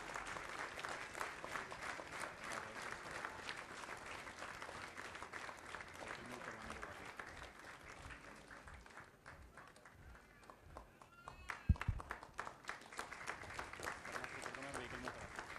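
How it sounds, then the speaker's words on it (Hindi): An outdoor audience applauds combat free fallers at a security demonstration, steady distant clapping running throughout with a brief dip and a sharp thump near the end. "तालियां बजाकर इनका उत्साहवर्धन करें"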